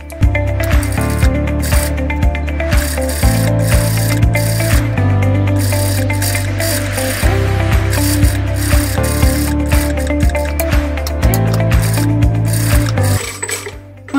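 A sewing machine stitches a shirt collar with collar stand, running in fast, loud mechanical bursts of rattling stitching separated by brief pauses as the fabric is turned at the collar point, with no talking.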